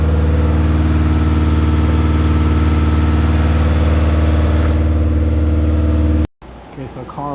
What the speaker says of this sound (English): The fucking idle is super fucking high.